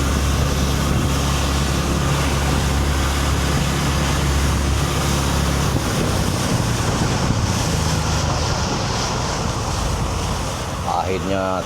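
Sea waves and a strong southeast wind roar continuously during a boat voyage from Banjarmasin to Pegatan, with wind buffeting the microphone over a low engine drone throughout.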